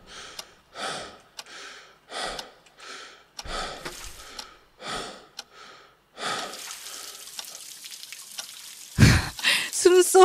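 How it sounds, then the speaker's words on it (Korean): Heavy, ragged breathing in a horror video game set in a building owned by the player: about a dozen loud, close, rhythmic breaths in and out, followed by a rushing hiss and sharp sound effects at the end. "숨소리가 너무 거칠어요."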